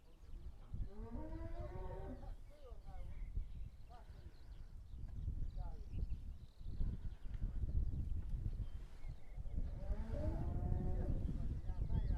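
Cows low repeatedly in a farmyard, with a long harmonic moo near the start and another toward the end, loud and close over steady background noise and shuffling.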